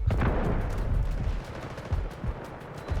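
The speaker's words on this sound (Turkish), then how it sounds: "Çok hızlı mermi boşaltıyor. 880 olması lazım dakikada attığı mermi." Rapid automatic fire from a K416 rifle in the Delta Force shooter game, a dense sustained burst of close, loud shots that thins into shorter bursts and single cracks toward the end, with no talk.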